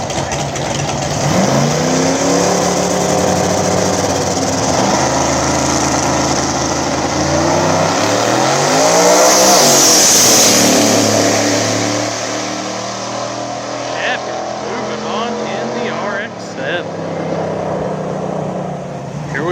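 A nitrous-fed Fox Body car at a small-tire no-prep drag race, its engine roaring loudly as it revs and launches, the pitch sweeping up and shifting, with crowd and announcer noise underneath.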